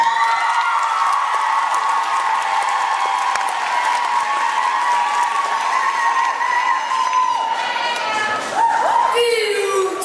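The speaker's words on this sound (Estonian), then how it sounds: "Teeme nendele aplausi." An audience at a school street-dance competition for grades 4–6 claps and cheers steadily in a hall, a sustained wash of applause under a loud bright tone that bends and drops near the end.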